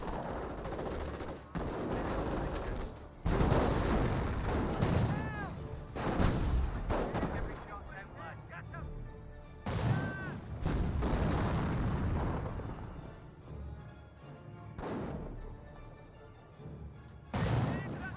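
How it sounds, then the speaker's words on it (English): Rifle grenades and other weapon fire ring out in the Company of Heroes strategy game, a dense battle mix of repeated booming blasts and crackling gunfire over eighteen seconds, with several heavy impacts standing out loudly. "Good damage there by the rifle grenades. Firing some grenades over the hedge."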